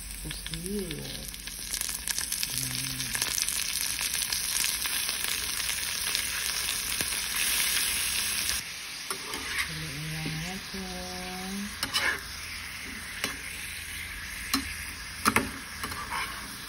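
Squid sizzles steadily in a hot pan while cooking adobong pusit, a continuous bright frying hiss with occasional stirring clicks, and a person talks over it.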